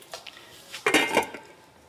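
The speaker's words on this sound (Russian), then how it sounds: "Накрываем крышкой." A few light metallic clinks and taps, then a louder clatter of a lid being set onto a pot of plum jam with lemon juice, close and alone with no talking.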